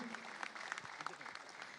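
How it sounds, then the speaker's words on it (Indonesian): People at an election campaign parade and peace declaration event clap, a faint, scattered burst of applause with a few sharper individual claps standing out. Some voices mingle in. "Beri tepuk tangan dan semarak yang meriah Bapak Ibu"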